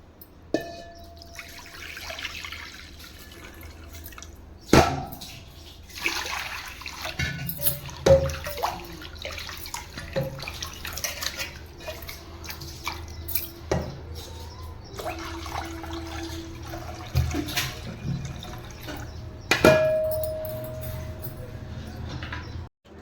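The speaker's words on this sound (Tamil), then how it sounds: "இந்த மாதிரி 2-3 டைம் கழுவிட்டு நம்ம அரிசி கழுவுற மாதிரி கழுவிட்டு நம்ம அரிச்சிக்கணும்." Little millet grains being rinsed by hand in water, with sloshing, trickling and dripping, plus occasional sharp knocks and splashes against the vessel, fairly close, over about twenty seconds.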